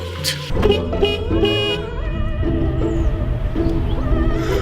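A horse gives a loud, drawn-out whinny with a wavering, descending pitch that rises over a dense layer of traffic-like noise, with a few toot-like tones mixed in.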